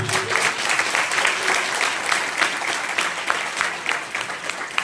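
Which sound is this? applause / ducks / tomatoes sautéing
applause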